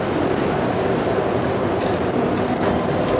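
An MRT train at a Kuala Lumpur station produces a loud, steady rumble and roar of rolling rail cars that holds constant the whole time, with no talking.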